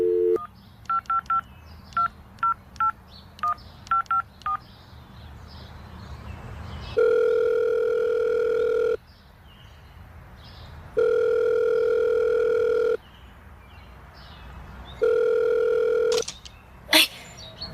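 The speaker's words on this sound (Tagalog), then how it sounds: "Tsaka nagri-ring naman eh." A call from a payphone: a quick run of DTMF keypad tones is dialed, then a steady ringback tone repeats in long, loud two-second bursts separated by pauses, heard close through the handset.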